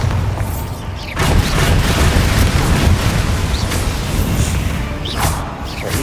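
A Bombarda spell explodes in a magic video game inside a tomb, a deep booming blast that swells about a second in and rumbles on loudly with crackling debris and scattered pops throughout.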